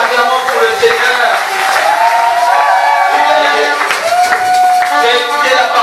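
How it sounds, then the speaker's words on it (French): A church congregation acclaims the Lord with clapping, cheering and raised voices, a loud, continuous wash of crowd noise with singing-like shouts throughout. "Nous acclamons pour le Seigneur."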